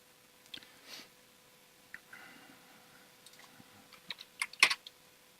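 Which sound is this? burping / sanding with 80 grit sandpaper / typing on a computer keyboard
typing on a computer keyboard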